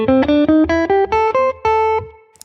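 A minor blues scale on guitar, including the flat-five blues note, picked note by note in an even ascending run of about eight tones, each sustained briefly, close and bright, ending on a longer ringing note.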